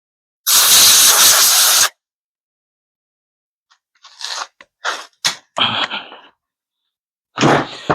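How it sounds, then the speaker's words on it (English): Compressed air blasts across a Stihl MS180c chainsaw carburetor area to clear debris: one long loud hissing burst, a pause, then several short sharp puffs and a final burst, close up with no talking. "I'm going to grab some air and blow this off real quick"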